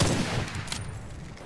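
Heavy gunshot report from a sniper rifle in the Witchfire video game, a loud boom at the start trailing into rumbling reverberation with a second fainter crack partway through.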